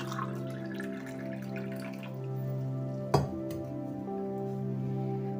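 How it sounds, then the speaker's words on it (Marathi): Cold water is poured into a glass tumbler for lemon sherbet, a brief liquid splash with one sharp clink near the middle, set against a steady tonal hum. "हे बघा मी काचेचा ग्लास घेतलाय, याच्यामध्ये थंड पाणी घालते"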